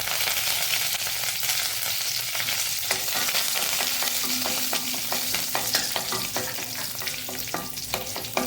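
Garlic and curry leaves fry in hot oil, making a continuous close crackling sizzle broken by occasional scraping stirs and light clinks of a spoon against the pan.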